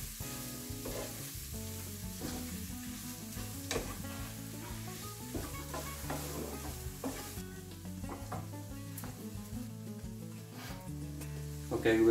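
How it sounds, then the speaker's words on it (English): Tomato paste is stirred into prawns and crab frying in a pan, giving a continuous sizzle under repeated scraping and stirring strokes, fairly close and steady throughout, with no speech. "I'm gonna put tomato paste in there. And mix it together."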